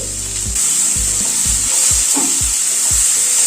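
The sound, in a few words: stirring tomatoes frying in a pan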